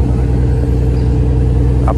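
A truck rumbles steadily close by as it rolls into a port, a deep continuous engine drone with a faint voice near the end.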